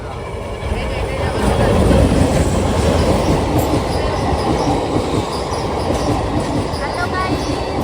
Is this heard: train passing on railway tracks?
yes